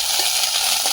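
Whole cumin seeds and ginger paste fry in hot oil, a dense steady hiss of close sizzling with no voices.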